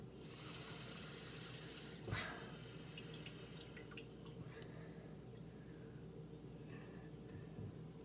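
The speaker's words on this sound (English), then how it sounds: "Just refilling the water." Tap water runs steadily while a glass is refilled indoors, a close, continuous rushing flow that fades to a quieter trickle partway through.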